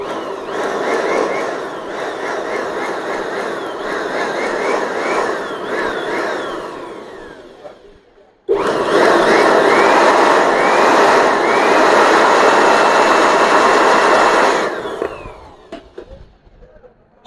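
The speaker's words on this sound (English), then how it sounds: "we can speed the reaction by our blower" Electric blower used to speed up glue curing while repairing the charging port of a Huawei mini Bluetooth speaker. A loud, steady rushing whir with a faint whine runs in two long stretches, broken briefly midway, and fades out near the end.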